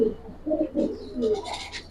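A Giribaz pigeon coos in soft, low, rounded pulses close by, a few short calls in a row, followed by faint higher chirps.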